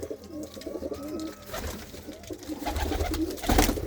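Pigeons coo in soft, rounded repeated calls at moderate distance, joined later by brief rustling and flutter-like bursts as birds move about.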